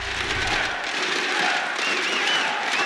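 A live crowd at an esports arena during a Six Invitational playoff match cheers and applauds in a dense, sustained wall of noise, with voices shouting within it.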